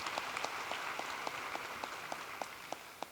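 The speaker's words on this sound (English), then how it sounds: "please, round of applause" A high school graduation crowd applauds, an even, continuous patter of many hands heard from a distance, with a few sharper nearby claps standing out at a regular pace.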